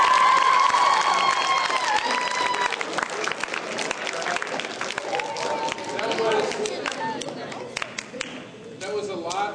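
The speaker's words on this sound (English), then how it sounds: "Give them a big round of applause." A school audience gives a big round of applause for 9th and 10th grade students after a liquid nitrogen demonstration, loud clapping and some cheering that fades gradually, with a few voices mixed in.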